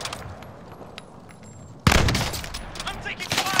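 Call of Duty Warzone gunfire erupts suddenly after a quieter stretch, loud bursts of rapid shots close by with a voice speaking over part of it.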